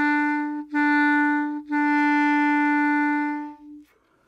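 A clarinet sounds the same steady E three times, two short quarter notes and one long held half note, each clean and sustained with brief breaths between.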